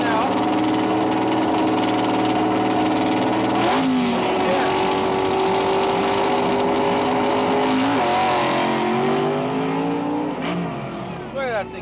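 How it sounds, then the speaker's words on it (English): Altered drag race car doing a burnout at Boundary Bay Raceway in 1975; a loud, sustained engine roar with tire squeal and two sharp rises in pitch as the engine revs, someone talking over it. "He's going to do another burnout here"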